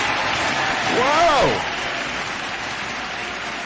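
Studio applause on a talk show greets a guest from Efrat, Israel. A steady wash of clapping runs throughout while a voice briefly exclaims over it in the middle.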